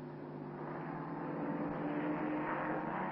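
A racing car passes on track at the Glover Trophy race at Goodwood near Woodcote corner, giving a steady, muffled engine drone from some distance that swells slightly. The recording sounds old and narrow in range.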